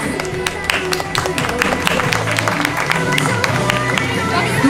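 A cosplay contest audience at a French collectors' convention claps continuously and densely, with scattered cheers and crowd murmur underneath.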